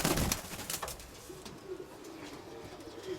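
Pigeons coo softly in low, rounded murmurs, a few quiet calls drifting close by against faint background rustle and no talking.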